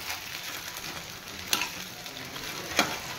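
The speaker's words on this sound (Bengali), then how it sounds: "এভাবে লাল করে দুপারি ভেজে নিতে হবে" Cauliflower pakoras deep-fry in hot oil, a steady close sizzle and crackle. Two sharp louder pops or clatters break through, one in the middle and one near the end.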